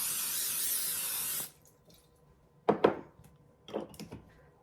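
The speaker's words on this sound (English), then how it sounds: "grease our baking dish with our cooking spray" A can of cooking spray hisses in one steady burst lasting about a second and a half as it greases a baking dish. A few quieter clinks and handling sounds follow.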